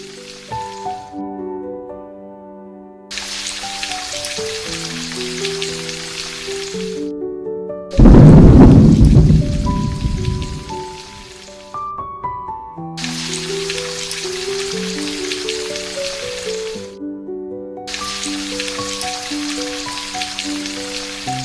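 Steady rain falls on roofs under a gentle melodic music bed, and one loud, rumbling thunderclap swells midway before fading back into the patter.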